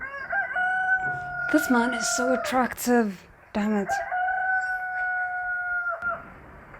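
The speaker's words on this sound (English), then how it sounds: "Was that his phone or was that an actual chicken?" A rooster crows in long sustained calls and clucks at the start and end, fairly loud, while people talk over the middle stretch.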